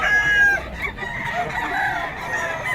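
A sweater-breed gamefowl rooster crows close and loud in one drawn-out cock-a-doodle-doo, with a little clucking from nearby fowl beneath it.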